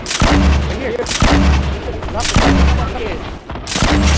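Machine gun fire in the Fortnite battle royale game, heard as four loud, close booming bursts in fairly even succession, each with a sharp attack and a rumbling tail, with a voice faintly under the shots.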